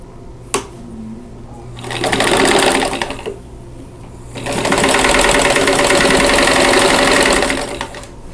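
A sewing machine stitches quilt block units into rows for a Mountain Meadows quilt block. Two loud, close runs of fast, even needle chatter are separated by a pause with a soft handling clunk.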